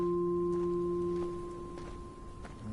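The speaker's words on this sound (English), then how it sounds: "Or is it Morse code?" Steady electronic tones sound in the Dear Esther video game, Morse-code-like beeps with sustained pitched lines fading out midway, then faint intermittent blips over a quiet ambient background.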